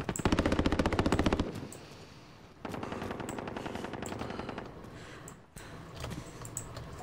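Rapid automatic gunfire in Call of Duty Warzone, a loud burst of evenly spaced shots followed by quieter sustained fire that continues in stretches with short breaks.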